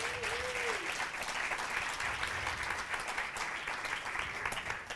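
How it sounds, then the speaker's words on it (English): Steady audience applause for Karen, a dense wash of clapping heard at a moderate distance that continues evenly throughout, with a brief whistle near the start. "do you want to give Karen a big round of applause?"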